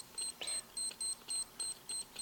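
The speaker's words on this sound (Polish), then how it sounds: "Słyszę pikanie." Repeated high electronic beeps from a planted bomb in Counter-Strike Nexon: Zombies, each a short doubled tone, pulse steadily about every quarter second, with faint background noise between them.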